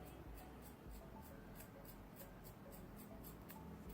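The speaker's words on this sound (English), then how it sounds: "all we're gonna do is take some scissors and just cut" Scissors snip across a wig cap, the blades giving a steady run of short, crisp cuts close up over a constant background hiss.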